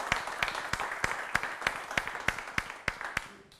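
A conference audience applauds with scattered, fairly sparse claps at a steady loose rhythm, close and moderately loud, with no talking.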